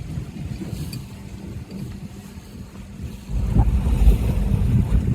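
Strong wind buffets the microphone on a sailboat in the English Channel near Cherbourg, a low rumbling roar growing louder and heavier midway through; no speech.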